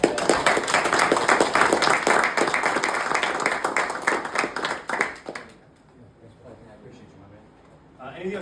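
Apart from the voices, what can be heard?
audience applause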